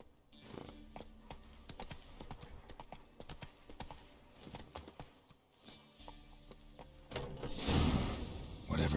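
Horse hooves gallop in The Witcher 3, a quick, steady clip-clop rhythm that runs throughout at moderate loudness and swells toward the end.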